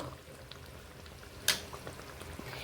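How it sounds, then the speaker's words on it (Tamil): Egg curry (muttai kuzhambu) simmering in a pan, giving a steady soft bubbling and popping texture with one sharp sizzle or clink partway through, close by and with no talking. "இன்னும் ஒரு அஞ்சு நிமிஷம் அப்படியே முட்டை குழம்பு நல்லா கொதிக்கட்டும்"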